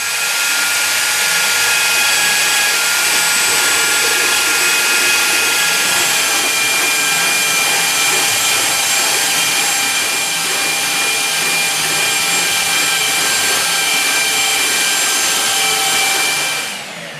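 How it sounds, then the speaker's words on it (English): A belt sander shapes a countertop backsplash, a loud, continuous roaring whine of abrasive on material, close and unbroken for the whole stretch before cutting off at the end, with no talking. "Remove the countertop and use a belt sander to shape the backsplash."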